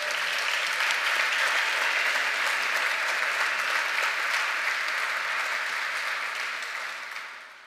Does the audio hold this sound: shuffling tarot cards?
no